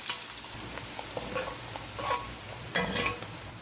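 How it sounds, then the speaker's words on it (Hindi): Chopped onion frying in a pan for kadhi pakora, with a steady soft sizzle and a few scraping stirs of a spoon against the pan, close by with no talking. "अब इसमें वो मिक्स करेंगे और अच्छी तरह फ्राई करेंगे इसको।"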